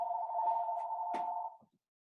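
A single electronic telephone ring, one steady warbling tone held for about a second and a half, then cut off, leaving silence in a quiet room.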